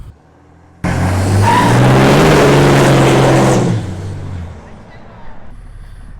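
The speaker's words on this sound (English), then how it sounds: "this is me starting the truck with the new part installed already" A Dodge pickup with a 6.7L Cummins diesel and 68RFE transmission, fitted with a new thermal bypass, fires up abruptly into a loud, rumbling roar for a few seconds, then eases down to a lower, steady run.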